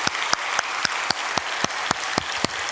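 A church congregation applauds together in steady rhythmic clapping, sharp regular claps over a wash of scattered hands, moderately close, with no speech over it.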